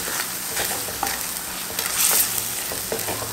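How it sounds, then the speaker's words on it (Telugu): Turmeric and spices sautéing in a pan for a Telugu-style sea fish curry, giving a steady close sizzle with repeated scraping stir strokes and a brief louder hiss near the middle. "మనం ఇలా 2 నిమిషాల పాటు వేపుకుంటే అన్నీ కూడా మనకి రుచిగా ఉంటుంది అన్నమాట"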